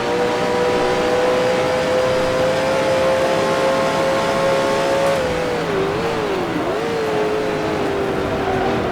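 Simulated 1966 Can-Am race car engines in Grand Prix Legends at Mosport, a loud continuous high-pitched engine whine holding steady then dipping and rising through gear changes as cars run close together.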